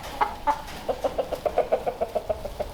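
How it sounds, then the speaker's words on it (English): Backyard chicken flock of Americanas, Rhode Island Reds and Leghorns with a rooster, clucking in a steady run of short, evenly spaced calls, close and moderately loud, with no talk over it. "This is our chicken flock though."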